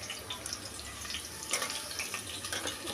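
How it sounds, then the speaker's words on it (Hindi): Soaked soybean chunks squeezed by hand in a home kitchen, releasing water in a steady run of close trickling and splashing drips for several seconds, with no talk. "तो इसको ऐसे पानी से निचोड़ निचोड़ के"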